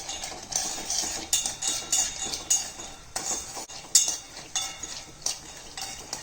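Peanuts being mixed in a pan with a teaspoon of oil make a rhythmic series of metallic spoon scrapes and clinks against the pan, close and distinct, over a light crackle.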